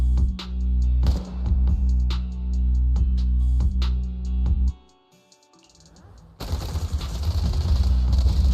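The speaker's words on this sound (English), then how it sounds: "Gunfire? This pattern. Suppressive marching fire." Rapid bursts of suppressive marching gunfire in Zenless Zone Zero crack in a steady rhythm, then pause briefly before a harsher, louder barrage erupts.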